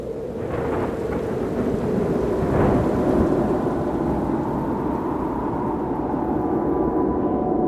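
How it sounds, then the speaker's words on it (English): Thunderstorm in the video game Dark Tome: steady heavy rain hiss with a low rolling rumble of thunder swelling near the middle, continuous and fairly loud, with no voices. "Storm came up all of a sudden."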